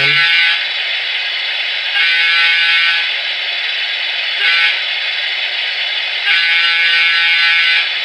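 Crossing horn of a Broadway Limited PRR Baldwin Centipede model locomotive, a loud, bright, sustained horn tone sounding in several long blasts with brief dips between them.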